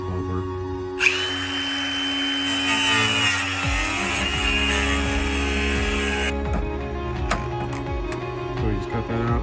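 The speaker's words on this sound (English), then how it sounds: "a 3-inch by 12-inch notch that I'm going to cut out with my grinder" An angle grinder whines steadily and loudly while cutting a 3 by 12 inch notch in metal, with a sharp start and abrupt stop, followed by scattered clanks and handling noises up close.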